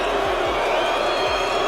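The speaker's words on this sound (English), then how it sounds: "And the crowd will get involved now." Darts match crowd noise in a packed arena, a steady broad roar of fans with murmurs and a few low thumps underneath, continuous and fairly loud throughout.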